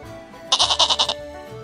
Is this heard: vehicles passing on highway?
no